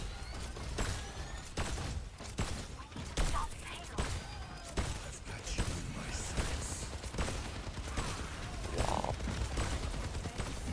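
Ana's gunfire in the Overwatch shooter: a series of sharp, evenly repeated shots at moderate volume, mixed with scattered game effects and voices talking underneath.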